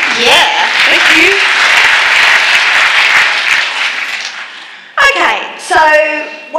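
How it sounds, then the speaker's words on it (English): A room full of people at a real estate conference applauds loudly for several seconds, the clapping fading before voices speak up over the tail end. "Round of applause for that."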